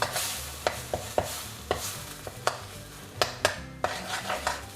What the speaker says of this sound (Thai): แล้วก็ค่อยๆผัดไปเรื่อย ๆ นะครับ จนกว่าพริกแกงมันจะหอมนะครับ